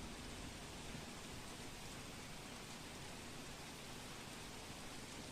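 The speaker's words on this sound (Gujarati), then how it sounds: "છોટાઉદેપુર જિલ્લા સહિત ગ્રામ્ય વિસ્તારની અંદર ધોધમાર વરસાદ વરસી રહ્યો છે" Heavy monsoon rain falls over rural Chhota Udepur as a steady, dense, unbroken hiss that stays even and quiet throughout, with no voices.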